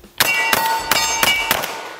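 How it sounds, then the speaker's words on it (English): Five rapid 12 gauge shotgun slug shots fired at a target, evenly spaced about a quarter second apart, loud and sharp with ringing tails. "Let's just see if I can shoot it as quick as possible."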